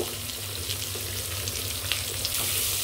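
Thinly sliced onions with salt sizzling in a pan for a briyani, a steady, loud, continuous frying hiss close up with faint crackles and no speech over it.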